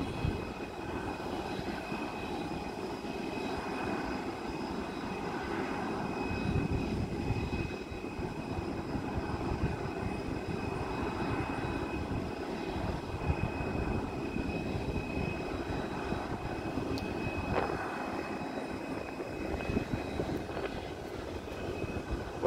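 Inside a parked Scoot airliner with its engines off, the onboard generator drones as a steady low hum with tonal whine, constant and moderately loud over the whole stretch, no talk.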